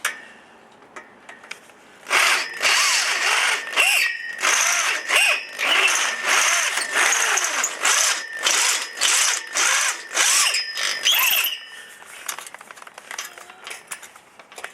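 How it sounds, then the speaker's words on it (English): A power drill bit bores into a steel pipe in loud, pulsing bursts, the motor straining and catching repeatedly as the bit jams, before winding down near the end. "the drill will start to bite into it and then jam"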